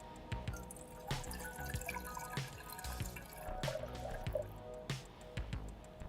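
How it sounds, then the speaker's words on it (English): Hot water at 120 degrees is poured into a measuring beaker, a soft, continuous trickle and splash with scattered drips and small knocks, fairly quiet and close, with no talking. "pouring out 20 ounces of 120-degree water into a measurement beaker"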